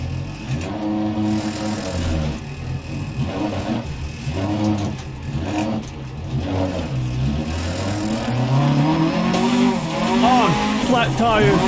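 A damaged rally car in the Dirt racing game, running at night with a wrecked radiator and a flat tire, revs and growls with rising and falling engine pitch and tire noise, under continuous talking.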